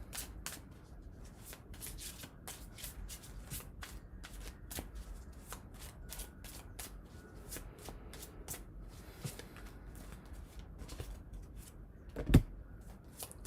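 A new tarot deck is shuffled by hand in a long run of quick riffling bursts with soft card slaps, close and fairly quiet, with a sharper knock near the end.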